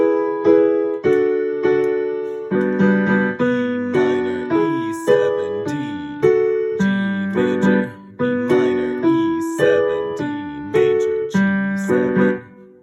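The chorus chords of a pop song are played on piano with one hand, repeated chords struck in a steady, bouncy rhythm, each ringing briefly before the next, with no voice.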